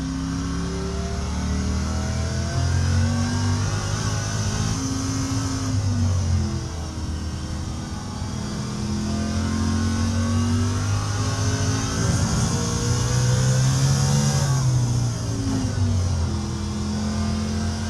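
A car engine in a racing video game played on a MOZA sim rig revs up and down repeatedly through gear changes, steady and fairly close with a constant whine.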